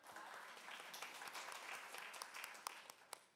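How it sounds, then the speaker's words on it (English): Faint room applause at a university event on public university funding, a soft continuous patter of clapping with a few sharper individual claps standing out near the end. "yes, round of applause"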